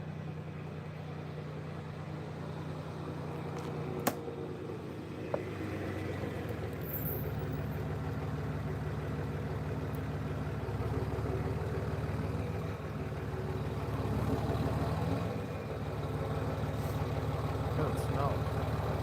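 A smelly diesel truck idles nearby with a low, steady rumble, broken by a couple of sharp clanks. People talk over it.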